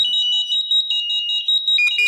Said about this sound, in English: All other devices will flash and beep.